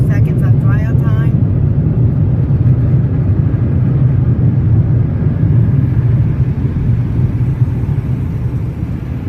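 Mark VII ChoiceWash XT dryer blowers at a Shell car wash produce a heavy, steady rushing roar that eases slightly toward the end, with a short squeaky burst at the start and a voice beneath.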